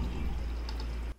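Water is poured steadily into a vessel to make green tea, a short continuous splashing stream that stops abruptly, with no voices.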